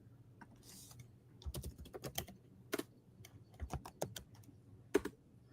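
Close, quiet keyboard typing as a name is entered, with irregular bursts of key clicks and a few louder strokes and no voices over it.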